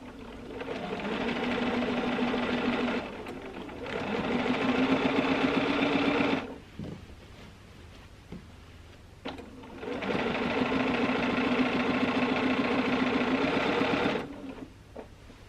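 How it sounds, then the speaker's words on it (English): A sewing machine stitches straight quilting lines through the batting of a small quilt, its steady motor hum and rapid needle chatter running in two long bursts separated by a quiet gap of several seconds. It is close and clear, with no talk. "I'm just starting sewing on the batting, and then I'm not making a few stitches at the same spot, but I'll just start sewing right away."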